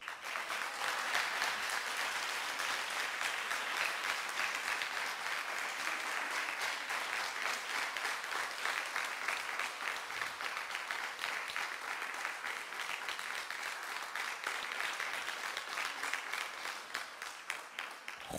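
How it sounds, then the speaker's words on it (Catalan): A large audience applauds at a diploma ceremony for museum assistant and radio and communication course graduates. The clapping is dense and steady for the full stretch, fairly distant, and tapers slightly at the very end. "Un fort aplaudiment per na Maria Argelaguer Rivera."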